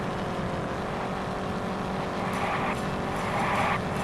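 Race car engine in the Indianapolis 500 Evolution video game, a steady loud engine drone with rising pitch sweeps near the end, continuous throughout with no talk.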